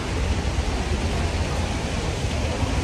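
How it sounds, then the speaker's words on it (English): Steady rain falls outdoors on a Hong Kong street, an even, unbroken hiss that stays at the same moderate level throughout with nothing standing out above it. "It is raining after all"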